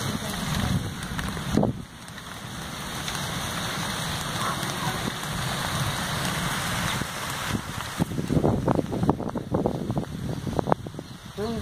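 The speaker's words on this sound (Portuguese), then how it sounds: "Vamos pra cá que vai já chover. Aí já chove" Rain falls steadily outdoors near a home with plants, a continuous hiss with gusts of wind buffeting the microphone and scattered louder drops toward the end, no speech heard.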